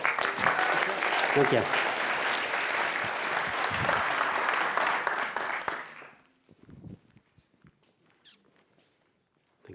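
An awards ceremony audience in Amsterdam claps for a science pitch presenter, a full steady applause for about six seconds that stops abruptly, followed by a few scattered claps, a short spoken thanks and quiet room noise.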